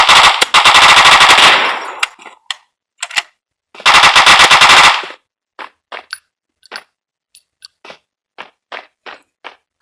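Automatic weapon firing in a video game: two long, loud sustained bursts of rapid fire, then a scattering of short single shots and clinks spaced apart, with no talk.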